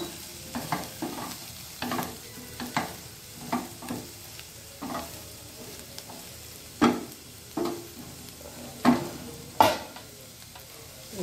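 Okra tossed into a hot pan of spices for a dry masala stir-fry, sizzling steadily while a spoon scrapes and stirs in irregular loud strokes, close up with no talking.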